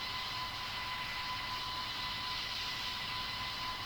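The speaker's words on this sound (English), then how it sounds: "So now you can see that the engines are running." Aircraft engines running steadily in a flight simulator game, a continuous broadband roar with a faint steady whine, constant in level with no talk.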